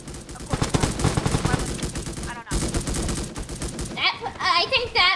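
Gunfire in a video game, dense rapid bursts of automatic shots that continue almost without pause, loud and close, with a short break midway and a brief voice near the end.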